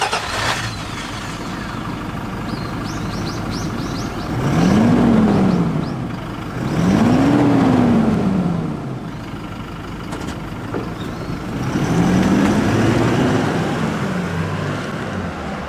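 Stock exhaust of a Toyota Hilux GUN125 pickup idling and rolling at low speed, a steady low rumble that swells in three gentle passes, with wind noise over the top and no talk.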